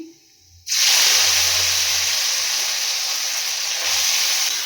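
Marinated fish drops into hot oil with an abrupt, loud hissing sizzle that starts after a brief quiet moment and carries on steadily, close and bright, with a few low thumps of the pan beneath.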